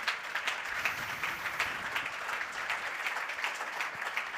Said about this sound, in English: Great applause to you.